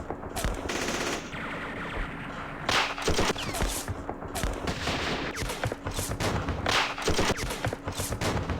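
Volleys of return gunfire in the war game Campaign Series Vietnam at Dien Bien Phu: loud bursts of machine gun and rifle shots in irregular clusters over continuous battle noise, with no talk.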